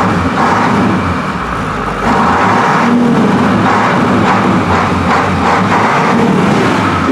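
A 1985 International school bus engine revs up from idle, a loud close rumbling drone that swells after a brief dip and holds its raised pitch with uneven surges.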